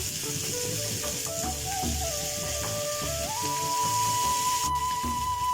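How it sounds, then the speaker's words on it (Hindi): Beef tikka boti pieces sizzle and fry in hot oil, a steady close hiss with faint crackle, accompanied by a thin whistling tone rising in pitch over the frying. "बस इसको हमने थोड़ा सा कलर देना है और थोड़ा सा बस इसको ऑयल में हमने फ्राई करना है"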